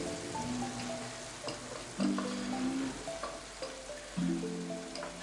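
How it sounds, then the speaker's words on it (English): A spoon stirs sauce in a pan with olives and capers for spaghetti Bolognese. Soft scraping and a faint sizzle sit under tonal background sounds, with a couple of louder stirring strokes. "And we'll give it a good stir."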